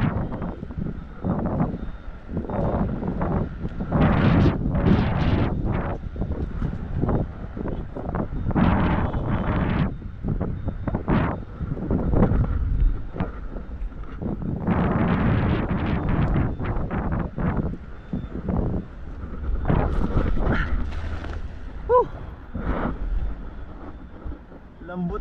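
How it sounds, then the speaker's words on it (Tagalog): Gusting wind buffets the microphone with low rumbling bursts while someone talks intermittently over it outdoors. "Pasensya na po, medyo mahangin lang."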